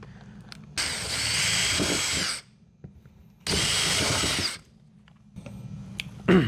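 A power drill drives screws into wooden interior panels of a box van, whirring in two sustained bursts of about two seconds each, with handling clatter between them and a louder knock at the end.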